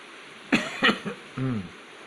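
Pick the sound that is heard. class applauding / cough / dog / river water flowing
cough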